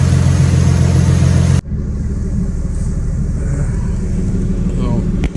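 A twin-turbo V6 car engine running, a loud, close rumble that drops abruptly to a steady, lower drone with a faint whine above it, and a voice underneath.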